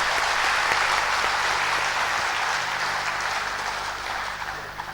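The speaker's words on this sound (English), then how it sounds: "Please give a big round of applause." Steady audience applause fills the hall at full strength, a dense wash of many hands clapping together that eases only slightly over five seconds with no talk.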